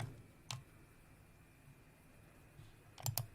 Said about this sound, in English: Now I'm just going to click on here and get